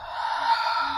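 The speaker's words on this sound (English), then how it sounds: "Big inhale" A slow, deep inhale through the nose during a bedtime yoga flow, a steady airy breath lasting about a second, close and fairly loud with no talking.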